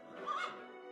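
A horse neighs in the Star Stable video game, a single faint, whinnying call with a quick rise and a fading tail, heard alone.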